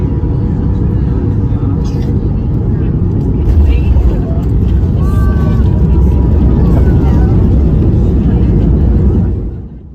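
A Flair Airlines jet lands on the runway in Cancun, heard from inside the cabin as a loud, continuous roar of engine and rolling noise that holds steady and then drops away near the end.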